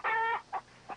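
A chicken clucks close by: one drawn-out squawking cluck followed by two shorter, softer clucks, fairly quiet and with no talking.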